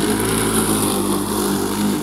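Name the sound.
engine being started after difficulty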